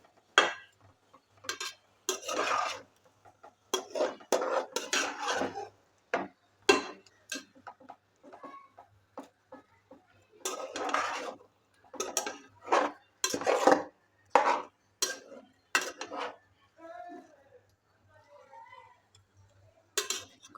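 Andhra-style fish curry being stirred in a pan, repeated clinks and scrapes of a spoon against the pan in irregular bursts, close and moderately loud.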